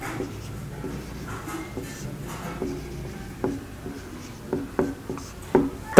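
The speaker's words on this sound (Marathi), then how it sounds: "इथे मी कंसात अमोल लिहितो" Pen or pencil writing by hand on paper, a soft continuous scratching and rubbing with small taps and strokes, close and fairly quiet with no talking.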